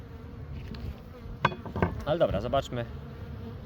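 Honey bees buzz at an opened hive of a small October swarm colony with a newly mated queen, a close droning hum with sharper rising bursts, while someone speaks over it.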